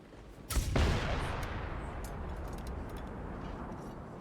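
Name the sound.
explosions in a video game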